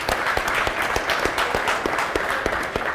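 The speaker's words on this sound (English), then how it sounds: "Please a round of applause for Frank Ogola." Steady audience applause greets the draw master taking the stage at a Mozzart Bet Cup draw event, a continuous patter of many hands clapping at close range for about three seconds with no talk over it.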